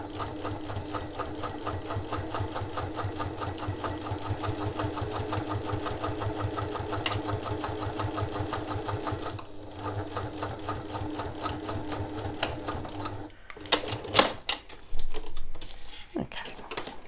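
A sewing machine runs a steady, rapid locking stitch through a boxed zipper pouch for several seconds, then pauses and gives a few short bursts and clicks.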